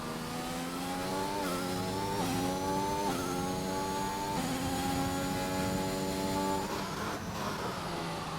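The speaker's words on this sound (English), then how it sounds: "we'll just watch this Williams of BM come down the main straight, hit the DRS" A Williams Formula 1 car in a racing video game screams down the main straight, its high whining engine climbing in pitch through several quick upshifts, steady and loud with no voices.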